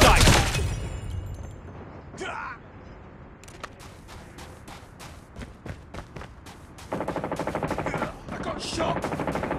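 Automatic gunfire in the mobile shooter game Call of Duty Mobile, with loud rapid bursts and a long sustained volley toward the end, mixed with game effects and occasional voice lines.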